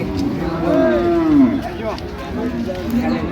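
A cow and calf moo at a busy cattle market, one long low call followed by shorter ones, close and loud, with crowd voices chattering underneath.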